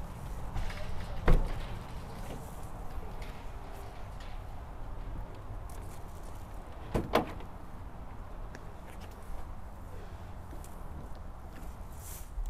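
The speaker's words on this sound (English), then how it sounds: "Let's open up these rear doors." Rear doors of a 2022 Winnebago Boldt 70 BL B-Class RV open with two sharp latch clunks, one early and one later, over steady outdoor background noise.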